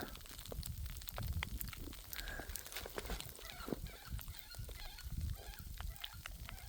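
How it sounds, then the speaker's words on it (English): Waterfowl calling over a snowy farm, with a steady scatter of honking and clucking calls from a flock passing overhead, moderately loud against a constant background wash. "So that's probably 20 ducks just then."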